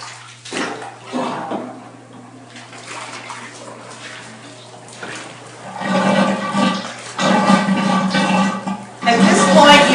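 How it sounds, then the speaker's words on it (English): Water drains from a bathtub after a quilt is washed by hand, a gurgling, rushing flow that grows louder and fuller partway through, with a steady low hum beneath and talk at points. "Okay, now I'm going to let the water go."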